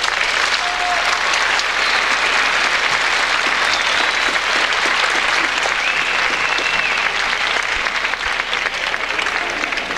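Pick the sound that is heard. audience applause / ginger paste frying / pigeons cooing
audience applause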